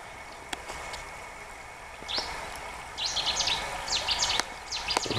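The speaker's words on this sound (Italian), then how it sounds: "L'acqua e gli uccellini, sì." Birds chirp in short bursts over a steady background wash like flowing water, with calls growing busier and closer in the second half.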